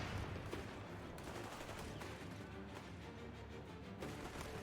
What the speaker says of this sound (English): we've got a bazooka team, and they are just pummeling that tank.